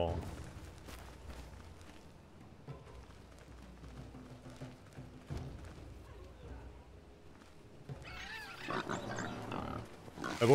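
Pig grunting in the survival video game Enshrouded, snorting grunts scattered across the clip among game footsteps and ambient noise, with a louder burst of activity near the end.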